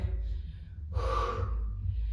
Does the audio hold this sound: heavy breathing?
yes